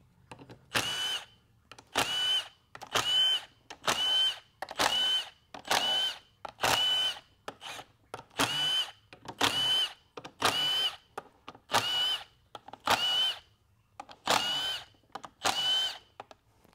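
A power tool spinning out 10mm bolts from a 4L65E transmission valve body: about fifteen short, close whirring bursts in a steady rhythm with brief gaps between, no talk.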